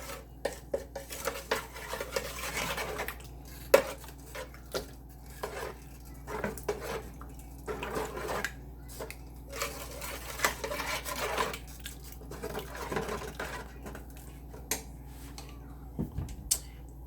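A spoon stirring Creole seasoning into a pot of spaghetti sauce, with repeated close clinks and scrapes of utensil against the pot at an uneven rhythm over a quiet background.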